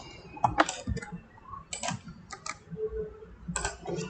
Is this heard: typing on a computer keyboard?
yes